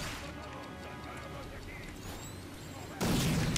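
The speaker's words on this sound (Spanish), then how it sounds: "Qué bien van las granadas, tú." Grenade explosions in the first-person shooter game Rage: heavy booming blasts over a dense, noisy wash of game sound, with a louder, sharper burst near the end.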